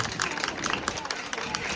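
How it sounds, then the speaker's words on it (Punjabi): Audience clapping in a busy room during a golgappa-eating competition in New Zealand, a short stretch of dense, steady applause with crowd noise mixed in. "ਅੰਦਰ ਜੋਰ ਦੀ ਤਾੜੀ ਲਾ ਦੇ"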